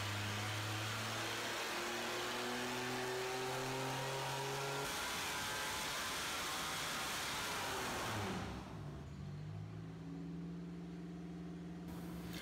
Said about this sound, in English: We got this thing running and made some boost